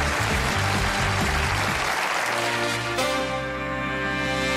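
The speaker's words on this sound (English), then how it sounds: "I'm humbled by that applause" A late-night television studio audience gives loud, steady applause with music beneath it, the band's tones carrying on as the clapping continues.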